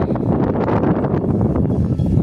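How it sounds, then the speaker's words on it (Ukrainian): Strong, gusty wind buffeting the microphone in a village garden, a steady low roar with rustling of plant covers, loud and continuous. "Знову вітер піднявся, зриває все."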